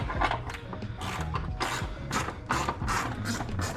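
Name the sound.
ratchet wrench turning on a Mustang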